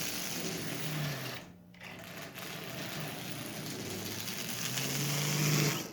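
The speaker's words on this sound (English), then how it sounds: "And this motor actually runs quite well." A Marx double reduction toy train motor, built up from parts with push rods and a cross bar fitted, runs steadily with a continuous mechanical whir and hum, close and fairly loud, briefly dipping once near the start.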